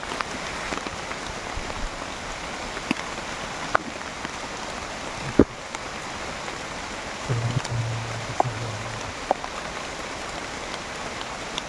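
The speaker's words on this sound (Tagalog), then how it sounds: "Yung lakas ng ulan" Heavy rain falls steadily in a dense, even hiss, with occasional sharp drips and knocks on nearby surfaces standing out above the constant downpour.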